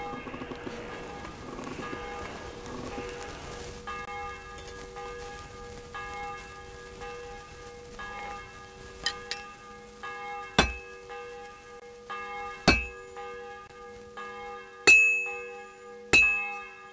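A church bell tolls in the medieval game Kingdom Come Deliverance 2, with a soft background hum giving way to several loud, ringing strikes spaced a few seconds apart, each fading into a lingering metallic hum.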